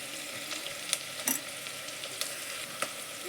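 Turmeric frying in hot oil, a steady close sizzle with a few light clicks of a spoon against the pan.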